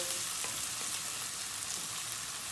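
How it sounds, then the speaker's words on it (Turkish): Onions and garlic sauté in a pan with a soft, continuous crackling sizzle, steady and fairly quiet, with no voices. "İyice bunu bir soteleyeceğiz."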